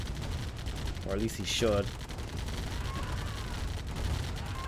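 Steady rattling gunfire from a turret focus-firing on a strip in a Quarry ladder match of a strategy video game, running continuously throughout with a voice commentating over it.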